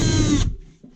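A power drill with a 3/8 bit countersinks a bolt hole in a shroud, a loud close whine that cuts off abruptly after a moment, followed by a faint knock.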